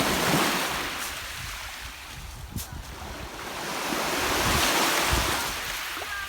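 Waves wash steadily onto a sandy, pebbly shore of Lake Superior at Old Woman Bay, a broad continuous surf roar swelling and easing, with wind buffeting the microphone throughout and no voices.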